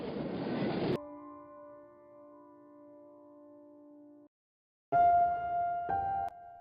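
Cartoon train sound effects: a burst of rushing rail noise, then a long steady horn chord that cuts off, silence, and a louder horn blast with a short change in pitch.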